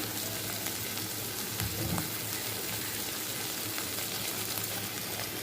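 Moringa drumsticks fry in a pan of cooked-down spices, giving a steady, close sizzling hiss that holds evenly throughout with no pauses.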